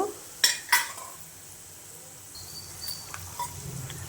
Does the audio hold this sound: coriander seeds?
yes